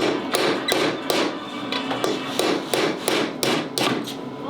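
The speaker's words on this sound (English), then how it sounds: "Just go ahead, put the pin, give it a few taps." Repeated sharp metallic hammer taps on a pin while removing the governor from a Predator 212cc small engine, roughly eight evenly spaced strikes, close and fairly loud, with no talking.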